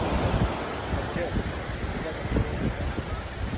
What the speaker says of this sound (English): Waves are a little bit crazier, it's a little windier